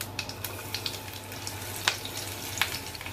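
Sliced garlic cloves and cumin seeds crackle and sizzle in hot ghee, a steady frying hiss dotted with small pops and spatters, close and alone.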